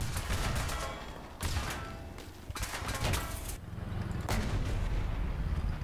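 Tank cannon fire in a War Thunder battle, several heavy booming shots and crackling impacts in quick succession, close and loud, with rumbling between blasts and no talk.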